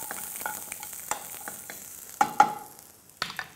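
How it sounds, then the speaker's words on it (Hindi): Chopped vegetables and diced carrots sautéing in a pan, with a soft background sizzle broken by a few sharp stirring clinks and scrapes, close up and without speech. "इसे हल्का सा सौते करना है, और थोड़ी सी डाइस्ड कैरेट्स। लाइटली कुक करना है।"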